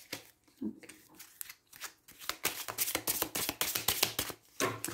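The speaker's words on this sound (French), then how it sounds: "je vais tirer quelques cartes du Hemingway" Tarot cards being drawn and shuffled produce a close, rapid flurry of papery riffling and slapping clicks that builds into a dense run, with brief soft handling before it and no speech.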